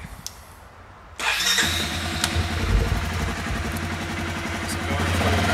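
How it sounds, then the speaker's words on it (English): A Suzuki KingQuad ATV engine cranks and catches at once after a quiet pause, then settles into a steady, close idle. "Yeah, maybe we'll have to start it."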